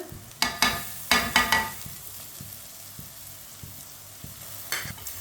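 Crushed garlic and ginger frying in a pan over onions browned for a vegetable sabzi, with a steady low sizzle broken by several sharp scraping stirs near the start and one more near the end, no voices.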